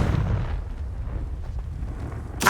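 A Confringo fire spell bursting in the Hogwarts Legacy video game: a rumbling explosive blast that decays into a low roar, followed by a sharp bright crack at the very end.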